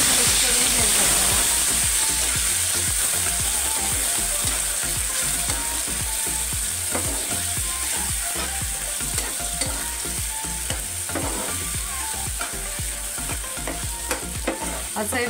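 Dhaba-style mushroom masala being stirred and mixed in a hot pan, a dense ongoing sizzle with rapid repeated scraping and clacking of the spoon throughout, no speech.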